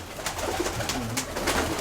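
A pigeon coos in low repeated throaty pulses while dancing, under a steady rushing airflow noise, fairly close with no voices.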